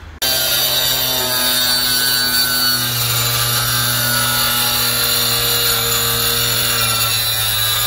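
A power tool cutting through material while a box is built, a loud, steady whine that starts abruptly and runs continuously for several seconds, close and alone.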